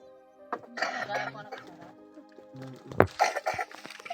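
Close throat-clearing and a short cough break up quiet vocal sounds, with a sharper burst near the end.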